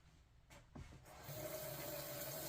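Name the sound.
hot water being poured for a double boiler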